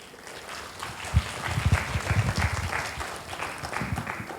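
Audience applause at a literature festival talk, a sustained burst of many hands clapping with louder swells in the middle, close and full, a faint voice under it.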